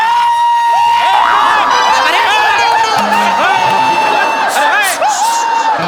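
A theatre audience at a one-act play competition cheers, whoops and shouts in a loud, dense, continuous roar, with individual voices calling out through the whole stretch.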